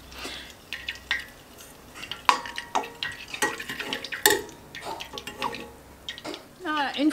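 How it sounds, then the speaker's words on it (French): A spoon skims foam off butter clarifying into ghee in a pot, giving quiet scattered clinks, taps and light scrapes against the metal at an uneven pace. "là c'est une écume mais transparente que je suis en train d'enlever, donc on la retire aussi"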